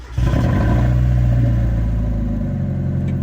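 A car engine cranks and catches, then revs loudly and steadily close by before settling slightly toward idle, with no voices.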